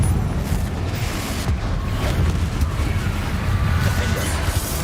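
A Confringo blasting spell in a Harry Potter video game sets off a dense, rumbling explosive roar that holds loud and unbroken throughout.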